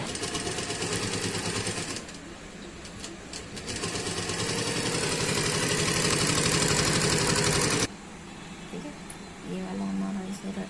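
A sewing machine runs a line of stitching along the neckline of a suit after the neck has been cut, its motor whirring steadily and closely for several seconds before dropping to a quieter patch.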